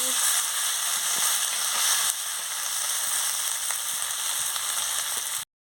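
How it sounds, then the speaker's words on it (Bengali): Masala with chopped tomato sizzling steadily in a pan, a loud close hiss with occasional pops and faint stirring that holds even before stopping abruptly. "টমাটো কুচি দিয়ে দিচ্ছি দিয়ে মশলাটাকে ভালো করে কষিয়ে নিচ্ছি"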